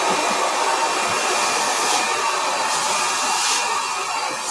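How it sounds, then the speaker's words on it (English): A hair blow dryer runs continuously at close range, a steady loud airy whoosh while re-stretching short natural hair, with slight fluctuations as it moves, and no talking. "I'm just gonna re-stretch it a little bit with the blow dryer."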